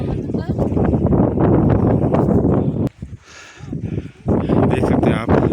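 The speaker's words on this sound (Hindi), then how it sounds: "तेज़ हवाएं चल रही हैं" Strong mountain wind in Skardu roars and buffets the microphone in loud gusts, briefly dropping away before surging back, with a voice talking over it.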